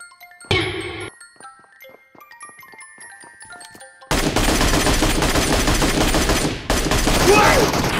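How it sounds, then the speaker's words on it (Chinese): Dense rapid gunfire from a video-game shootout with high-explosive rounds, loud and continuous through the second half after sparse pinging and a short burst early on. "打了这么多枪，我还是高爆子弹，这都打不死人"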